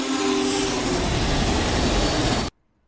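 A loud train sound effect rolls continuously for about two and a half seconds, then cuts off abruptly to near silence, produced as a sound for toy or model train cars.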